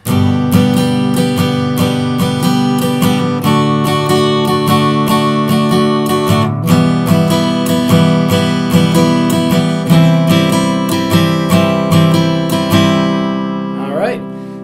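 Acoustic guitar strummed rhythmically through a chord progression, bright and close, with chord changes every few seconds and a final ringing chord.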